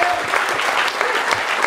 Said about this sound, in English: Big round of applause for ETH Global